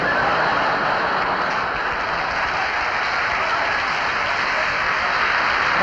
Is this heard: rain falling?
no